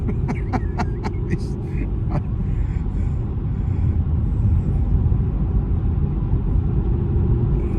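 Deep, steady engine rumble from a Cadillac CTS-V with over 600 horsepower fills the cabin during a ride, a low continuous drone with a few brief clicks early on.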